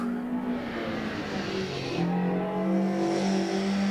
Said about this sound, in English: That is not a standard engine.